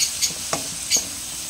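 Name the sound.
fish frying in cooking oil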